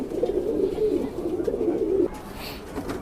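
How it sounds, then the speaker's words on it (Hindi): Kalpare Madrasi pigeons, including green-eyed birds, coo in a dense near chorus inside their loft for about two seconds, then the murmuring drops to a quieter trickle. "और एंटिक कबूतर है सारे के सारे"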